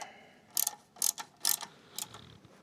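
A ratchet wrench tightening a threaded fitting on a water heater upgrade for a Ford 4000 tractor, with four or five short, crisp metallic clicking bursts evenly spaced and close by, no talking.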